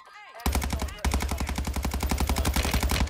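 Rapid automatic gunfire bursts loudly in a video game shootout, a brief quiet lead-in giving way to dense, continuous rattling shots that keep going to the end.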